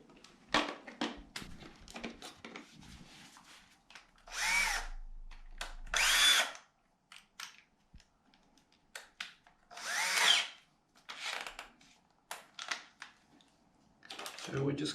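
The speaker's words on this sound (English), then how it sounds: "And because it's cement sheeting, we'll pre-drill." A power drill pre-drills holes in cement sheeting with two loud whirring bursts of a few seconds each, then another two, separated by quiet gaps, soft handling clicks and someone talking.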